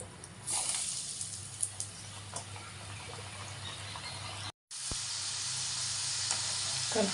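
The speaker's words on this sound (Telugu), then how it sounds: "నూనె బాగా హీట్ అయిపోయింది, ఫ్రై చేసుకుందామండి." Potato french fries sizzle steadily in hot oil, a close, continuous frying hiss with a few crackles, a brief cut near the middle and no talking.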